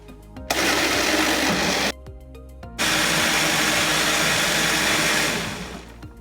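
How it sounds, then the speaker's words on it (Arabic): A kitchen blender blends a healthy juice drink for an iftar table, a loud steady whirring that stops briefly partway through, then resumes at full strength before winding down at the end. "غادي نخلطو ان شاء الله."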